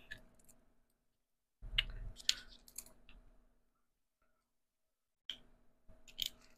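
Scissors snipping while washi tape is opened, a few sharp close clicks and crisp cuts in short clusters separated by silence.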